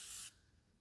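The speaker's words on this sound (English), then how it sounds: "we're gonna hit it with the prep spray first" A short burst of prep spray hisses from an aerosol can onto a car body panel during bodywork on a V8 manual BMW E39, then cuts off sharply, leaving quiet room tone.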